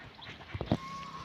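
A duck gives two or three short, quick quacks, fairly faint and nearby, over quiet background noise.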